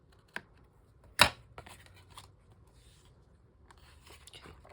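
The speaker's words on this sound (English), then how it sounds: "Oh, I need to cut that too, to the shape of the folder." Scissors cut a paper file folder to shape, with a few sharp snips and scraping paper rustles heard up close, then quieter handling.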